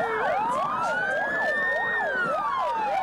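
Several police and emergency vehicle sirens wail at once during a memorial for road accident victims, their rising and falling tones overlapping in a loud, continuous chorus.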